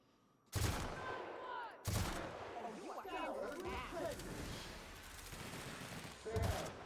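Gunfire in the video game The Outer Worlds: loud sharp bursts near the start, again around two seconds and near the end, with continuous combat noise and talking in between.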